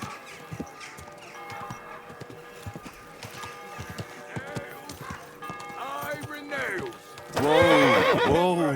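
A horse in the medieval video game Kingdom Come: Deliverance 2 whinnies several times over a steady clip-clop of hooves, ending in a loud, close neigh, while someone speaks intermittently.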